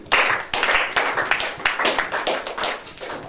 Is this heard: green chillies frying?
no